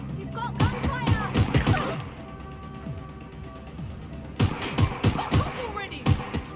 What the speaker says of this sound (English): You've got gunfire!